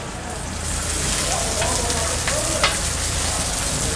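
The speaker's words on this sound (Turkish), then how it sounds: "Gördüğünüz gibi köfteler pişiyor." Köfte meatballs sizzle steadily on a hot cooking surface at an Elazığ street food stall, a dense crackling hiss that runs throughout with a few soft clinks.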